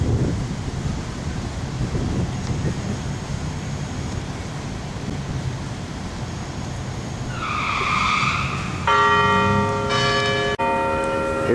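Church bell ringing outdoors in a park with competitors nearby, a few clear tolls arriving late over steady wind noise and outdoor rumble, moderately loud and somewhat distant.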